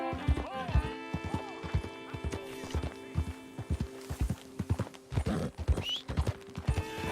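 Horse hooves clip-clop in a steady rhythm close by while the horse neighs and whinnies several times, with people talking and calling out over it.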